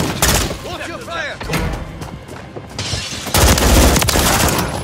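Rapid gunfire and booming explosions in the Call of Duty Modern Warfare 3 multiplayer video game, loud and close, with dense bursts and a heavy blast near the end, under shouted voices.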